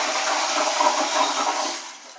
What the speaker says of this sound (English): Let's say if it's just light flush you want to do, you just turn it like a little bit.